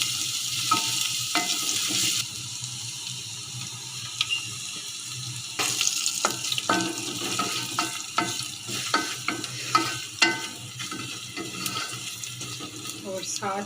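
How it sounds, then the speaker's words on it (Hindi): Mango chutney with spices sautéing in a pan, a spoon scraping and stirring in irregular strokes over a faint sizzle, with occasional louder clanks and a stretch of running water. "थोड़ा सा सौते करने के बाद इसमें सारे के सारे मसाले जो आपको दिखाए थे वो ऐड करेंगे"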